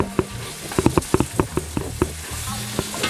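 Meat sauce with beef bouillon being stirred in a pot, a spoon knocking and scraping in quick irregular strokes over a soft bubbling sizzle, close and alone.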